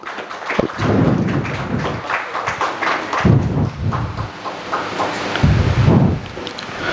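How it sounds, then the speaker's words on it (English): An audience at the inaugural session of an AICTE ATAL faculty development programme on sustainable additive manufacturing gives a round of applause for the guests. The clapping is continuous and mid-level, mixed with some dull thumps, and no one speaks. "A huge round of applause, everybody please."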